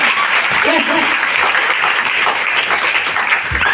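A seminar audience in Ludhiana, Punjab breaks into loud, sustained applause, dense clapping from a large crowd filling the room, with a voice talking over it.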